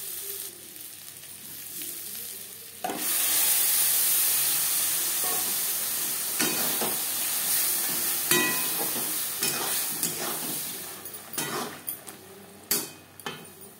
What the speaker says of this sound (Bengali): ফোড়নের সাথে ডাল আরও 3-4 মিনিট রান্না করব